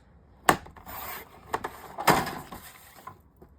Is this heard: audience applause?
no